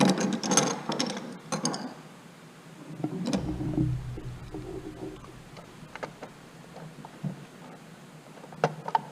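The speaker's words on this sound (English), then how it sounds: "so then we tighten up the screws" Metal screws being tightened on a Beckett AFG oil burner in a heating lab, giving scattered small clicks and ratcheting ticks with some handling clatter, fairly close and moderately quiet, with no talk.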